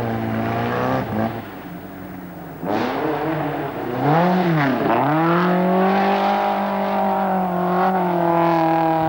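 Group B rally cars on the 1984 RAC Rally struggle round a muddy bend, engines revving hard with sharp pitch swings and surging acceleration, loud and close, with wheels spinning on mud.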